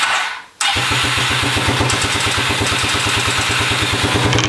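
A quad bike's engine catches on the starter motor after a brief crank, then settles into a loud, close, rapid steady chugging idle.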